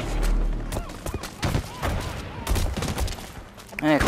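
Rapid gunfire from the online shooter game Blacklight Retribution, dense bursts of shots and booms running continuously at close range, with a voice talking over parts of it.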